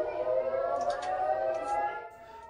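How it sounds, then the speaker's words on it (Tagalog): An air raid siren wails over Tel Aviv during rocket attacks, a loud steady tone with its harmonics gliding slightly, heard fairly near for a couple of seconds and fading at the end, with no speech. "Dinig ang sirena at airstrikes nang patapos na ang panayam"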